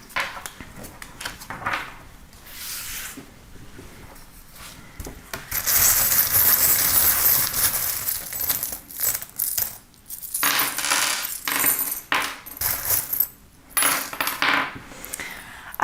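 Small metal charms are tossed and scattered for a divination reading, making close jingling, clinking rattles in uneven bursts with short pauses between. No one speaks.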